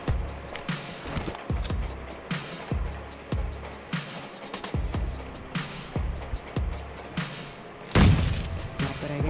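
Explosions, gunfire and heavy thuds in a PUBG match come as a steady run of booming hits with a louder blast near the end, while a voice talks faintly underneath.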